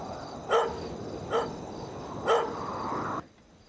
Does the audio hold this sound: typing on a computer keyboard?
no